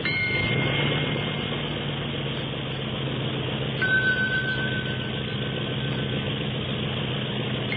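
A toy plane motor drones continuously at close range, a buzzy steady whir with a brief pitch change partway through, like a small propeller engine idling.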